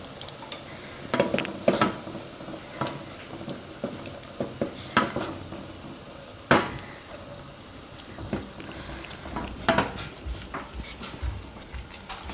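Rice flour stirred little by little into boiling water in a pot for Gujarati rice-flour puris: irregular scraping and tapping of a spoon against the vessel, with soft bubbling underneath, close and moderately loud, no talking.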